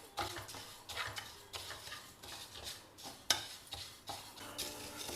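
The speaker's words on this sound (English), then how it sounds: "dry roast this black urad. Dry roast it in a heavy pan." Split black urad dal dry roasts in a heavy pan, with repeated scraping stirs and light clinks of the spoon against the pan over a faint crackle, close and fairly quiet.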